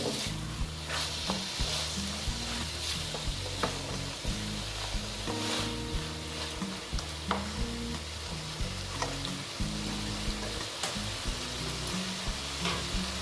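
Soybean and potato curry sautés in a pan with a steady close sizzle, while a spoon scrapes and stirs in quick repeated strokes throughout, and no one speaks.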